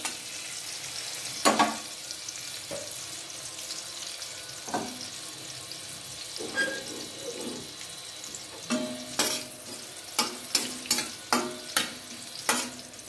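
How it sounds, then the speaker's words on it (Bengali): Cashews and raisins sizzle in hot oil, a steady close crackle under sparse spoon taps. The taps turn into a quick run of clinks and scrapes against the pan near the end. "কাজু কিশমিশটা ভাজা ভাজা"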